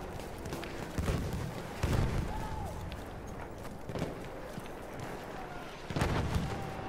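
Arisaka rifle shots in the video game Battlefield 1, with several loud reports spaced a second or two apart over a busy battlefield din of distant gunfire and movement.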